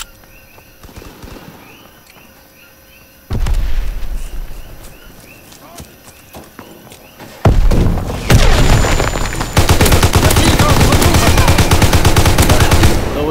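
Gunfire in Call of Duty WWII multiplayer: sparse shots and footsteps at first, then a loud sharp report, followed by dense, continuous rapid-fire bursts and booms that dominate the latter half.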